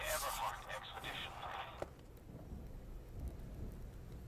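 Thunderstorm in the video game Call of the Sea, with steady rain hiss and a rolling rumble, one sharp crack, and a low distant roll under quiet background talk.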